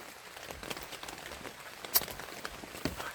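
Rain falls outdoors in a rural countryside setting: a faint, steady patter on surfaces, with scattered, sharper drops standing out now and then.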